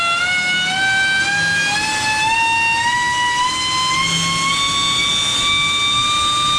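A homebuilt supercharger on an LS-powered R34 Skyline spinning up on a test run around 22,000 RPM, giving a loud, steady whine that slowly rises in pitch over a constant roar, close by.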